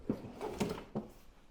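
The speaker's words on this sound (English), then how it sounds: "The drawers on this left bank work pretty well." Wooden drawer on the left bank of a woodworking shop cabinet sliding open or shut, a few short close knocks and rubbing slides in quick succession, with no talking.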